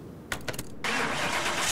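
A supercharged R2 car in the video game Car Mechanic Simulator 2021 cranks with a few short starter bursts, then catches and settles into a loud, steady engine roar.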